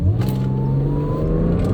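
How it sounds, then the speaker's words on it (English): An Audi S4 on Falken Azenis FK510 tyres launches from a standstill on a wet road up to 30 km/h, a steady close engine drone whose pitch climbs slowly throughout, with no talking. "I'm going to launch it from 0 and get up to 30 kilometers an hour and then back down to 0"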